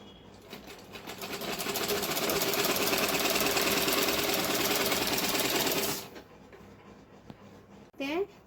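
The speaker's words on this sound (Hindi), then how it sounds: "इसी तरीके से पूरे राउंड पे सिलाई कंप्लीट कर लेनी है।" A sewing machine stitches the seam of a baby frock made from an old dupatta, giving a loud, steady rattling whir for about five seconds before stopping, with a brief voice just afterward.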